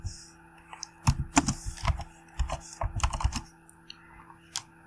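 Keys clatter on a computer keyboard as a search for Visual Studio is typed, a quick irregular burst of close clicks with short pauses in between.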